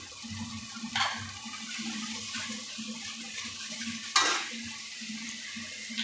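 A steady hiss comes from a pan of puti fish curry with green chillies, with a couple of sharper scraping strokes from stirring.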